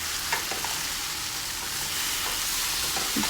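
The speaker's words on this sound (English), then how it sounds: "Let's fry the prawns" Prawns fry over high heat in a pan for a honey-glazed garlic dish, giving a continuous bright sizzle with a few soft clicks of stirring and no voices.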